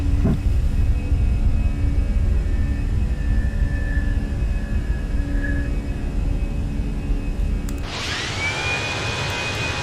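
Fenix A320 airliner taking off in Microsoft Flight Simulator: a loud, steady jet engine roar with rumbling low end and a faint whine, then an abrupt shift to a bright, hissing high-pitched engine tone near the end.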